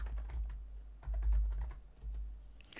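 Steady clicking of keys as someone types on a computer keyboard while entering a query name in a database program, a quick close rhythm of light taps with no talking.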